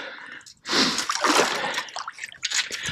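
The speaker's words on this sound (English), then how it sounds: "Hope that didn't splash my GoPro, because it sure splashed my face." Water splashes hard as a two-year-old beaver is pulled from a trap, a sudden loud close splash followed by sloshing, dripping and struggling in the water.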